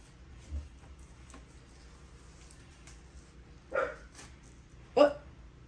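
A dog named Fancy gives two short barks a little over a second apart, moderately close, over a quiet indoor background with small scattered noises.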